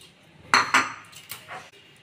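Rice flour and maida mixed together in a bowl with a metal spoon, producing several close clinks and scrapes in an uneven rhythm, with no speech.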